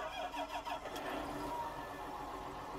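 Tractor engine in Farming Simulator 19 cranking over and catching, a rough revving start with a squealing edge, then settling into a steady, fairly loud idle hum.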